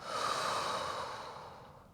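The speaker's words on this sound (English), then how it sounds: "Deep breath in, open mouth exhale" One long, deep open-mouth exhale during a yoga flow, a breathy rush that is loud at first and then fades away over about two seconds.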